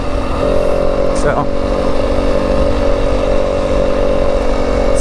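A Yamaha WR250F dirt bike engine drones at a steady pitch while being ridden through the Arizona desert, loud and continuous with a brief voice over it.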